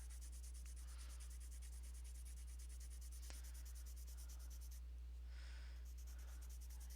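A white colored pencil scratching over paper while drawing mist swirls, with faint, steady scratchy strokes in short repeated bursts over a constant low hum.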